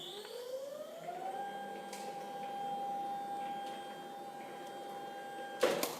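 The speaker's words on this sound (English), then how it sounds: "Backgauge going to the commanded calibration position." An Edwards 55-ton ironworker's CNC backgauge travels to its calibration position with a steady motor whine. The whine rises in pitch at the start, then holds level, and ends with a short clunk.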